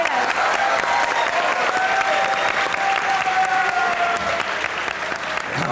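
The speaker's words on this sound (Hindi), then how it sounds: "तालियां बजाएं।" A studio audience at a talk show breaks into sustained, even applause, a thick wash of clapping that stays loud throughout with faint voices beneath.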